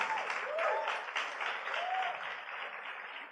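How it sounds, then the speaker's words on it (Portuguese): Church congregation applauding a family during a service, a steady wash of clapping throughout, with faint whoops or voices rising briefly above it. "Vamos aplaudir o Senhor para essa família, gente maravilhosa."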